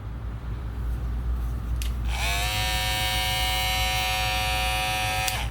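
An Andis GTX-EXO cordless hair trimmer switches on and runs with a steady, close electric buzz and a faint whine over a low background hum, then cuts off near the end.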